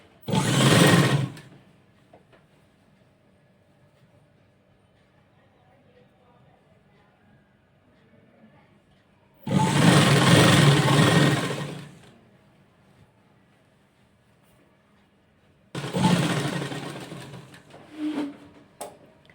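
A sewing machine stitches fabric on the wrong side of a frock hem in three loud, whirring runs of a second or two each, separated by long quiet gaps with faint speech.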